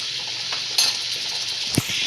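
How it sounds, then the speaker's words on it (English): Cabbage and garlic sauteing in a pan give a soft, steady sizzle broken by a few light utensil clinks and scrapes, close and fairly quiet. "we're going to saute this just for the cabbage, little garlic"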